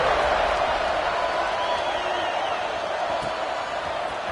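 Stadium crowd noise in the College Football 26 video game, at a Washington vs Arkansas game, a steady broad roar that holds at one level throughout with no sharp peaks.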